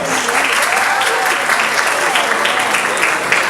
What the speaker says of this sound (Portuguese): Dr. David Júnior, uma salva de palmas